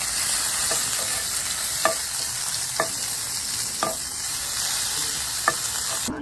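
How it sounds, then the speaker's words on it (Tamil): Curry leaves fry and get stirred in a hot pan, with a constant bright sizzle and periodic sharp spoon taps against the pan roughly once a second. "இதை நல்லா முருகை வறுப்போம்"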